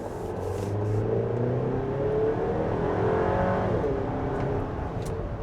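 A Chevy Traverse engine pulls hard under heavy throttle, a steady broadband roar with rising harmonic tones that holds loud and close from inside the cabin for several seconds.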